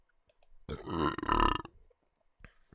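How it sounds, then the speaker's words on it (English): A loud, close burp straight into a microphone, one long rumbling belch of about a second with a short catch in the middle, then near silence. "I didn't mean to burp into the mic"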